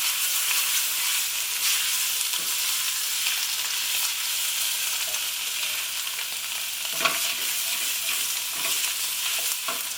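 A vegan mushroom and pepper stroganoff sizzles steadily in a pan, seasoned with black pepper, while a utensil stirs it now and then with soft scraping knocks; close, continuous frying with no talking.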